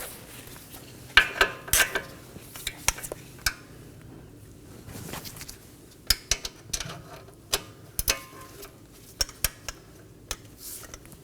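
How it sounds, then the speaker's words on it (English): A torque wrench tightens a lock nut to 103 foot-pounds on a front camber kit of a 2015-2023 Nissan Maxima, giving a run of sharp metallic clicks and ratchet ticks, close and spaced irregularly. "Now we're going to torque our lock nut down to 103 foot-pounds."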